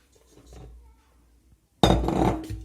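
Flour mixed with soda is stirred in a bowl for homemade sour-cream cupcakes: faint scraping first, then a sudden loud run of clattering, clinking utensil-on-bowl knocks up close.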